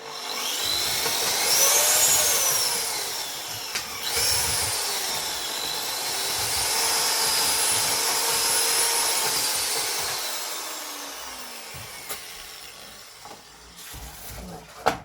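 A small electric mortar-mixing machine whirs loudly and steadily, its pitch rising and falling as it churns the mix, then winds down toward the end with a few knocks; no speech.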